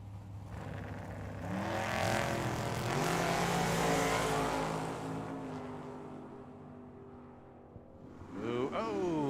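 Drag racing cars launching at Tucson Dragway, including a Corvette Roadster with a 2012 Corvette body on a Don Davis chassis, engines roaring loudly and sweeping past, then fading before another rising rev, with a commentator talking over it.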